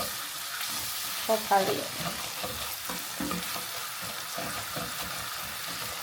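Vegetables roasting in a pan with Italian seasoning, a steady sizzle with stirring scrapes and light clatter near the start, heard close up while someone briefly speaks.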